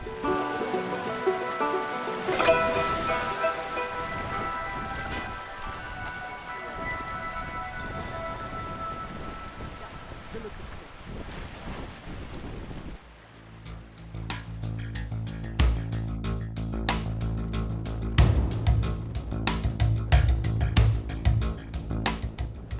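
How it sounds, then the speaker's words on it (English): Heavy rain in a mountain thunderstorm in the Dolomites: a dense, hissing downpour with crackling drops striking close surfaces, growing louder and rougher in the second half. "We're approaching a very heavy thunderstorm."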